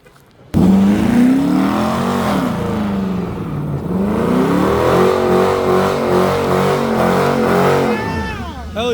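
At a car meet, a car revs hard and swerves around a corner, its engine rising and falling loudly for several seconds close by while people talk.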